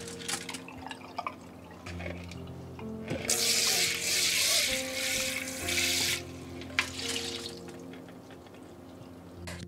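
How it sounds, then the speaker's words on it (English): Water pours and splashes for a few seconds as it drains from soaked rice, between quieter drips and handling sounds. "Drain water and remove the moisture as much as possible."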